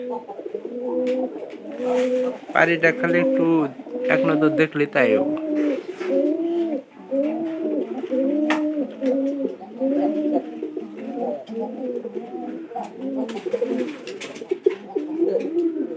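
Pigeons coo in a steady, layered chorus close by, rolling calls overlapping throughout, while someone speaks briefly over them.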